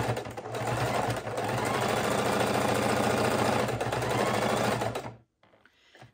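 A sewing machine stitches quilt fabric, half of the piece being sewn on for a fidget quilt: a loud, close, rapid mechanical whir of the needle runs steadily for about five seconds, then stops abruptly into near silence.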